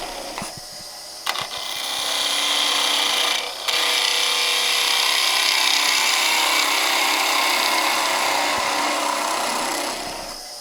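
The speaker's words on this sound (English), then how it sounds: "I guess I'm drilling a depth hole with my gouge," Wood gouge cutting a depth hole into a dry burl, a loud, continuous grinding scrape close up with a couple of sharp knocks at the start.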